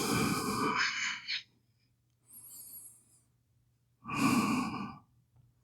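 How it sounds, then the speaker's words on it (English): Deep breaths during a yoga pose for the back, glutes and core: a long, close exhale, a quiet pause with a faint high whistle, then another strong breath. "and breathe."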